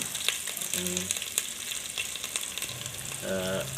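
Ginger garlic paste with cardamom and spices sizzling in a hot rice cooker pot while beef is cooked, a close, moderate crackling fry with brief tonal beeps, no one talking.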